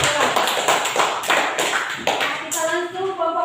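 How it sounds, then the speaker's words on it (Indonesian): A classroom of students claps for a group, with sharp sparse hand claps and taps up close that thin out toward the end, where a voice briefly speaks. "tepuk tangan untuk kelompok 2"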